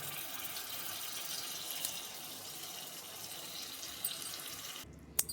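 Tamarind juice being poured into a village-style egg curry, a steady liquid trickle and splash that runs for several seconds before stopping with a faint clink.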